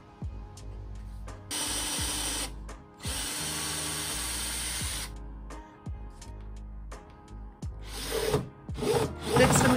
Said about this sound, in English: I'm just going to drill a small hole in the back panel through to the kick plate